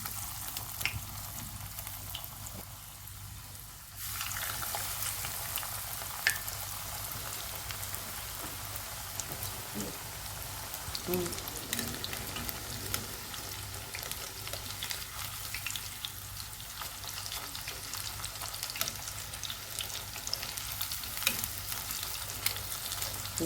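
Hot oil heating in a pan for a light summer lunch of chicken breast fillet, giving a steady, continuous crackling hiss with occasional pops under a low background hum, growing denser after a few seconds.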